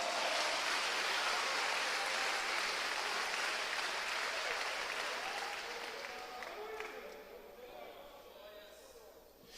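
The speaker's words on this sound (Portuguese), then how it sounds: "um aplauso ao Senhor" A church congregation applauds the Lord, a dense wash of clapping that fills the space and gradually fades toward the end.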